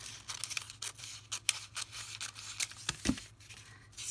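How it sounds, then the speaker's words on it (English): Scissors snip and slice through paper for a handmade lace journal, a close, steady run of crisp cuts and rustling with no talking. "I'm not cutting really straight."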